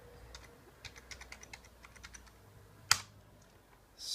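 Fingers typing search words on a computer keyboard, a quick, uneven run of soft key clicks with one sharper tap near the end, close and fairly quiet with no talking.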